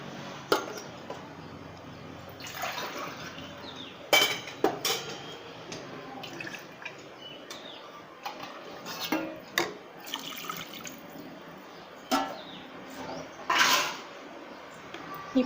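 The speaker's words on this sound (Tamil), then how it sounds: "இப்போ நார்மல் தண்ணி வந்து நான் வந்து 3/4 டம்ளர் சேர்க்க போகிறேன்" Plain water is poured into a pot of coconut milk while cooking chicken biriyani, giving soft splashes and trickles in uneven bursts with quiet gaps between them.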